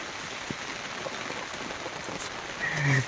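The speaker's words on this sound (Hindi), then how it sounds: "वर्षा होची" Rain falls steadily in a village, a soft, even hiss of drops that lasts throughout with no one talking.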